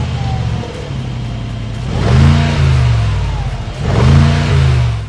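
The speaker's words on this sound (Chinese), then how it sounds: "这是老款的 G500 点火声音" An older Mercedes G500 engine fires up and then revs twice, each rev swelling into a loud, close roar before settling back to a rumbling idle.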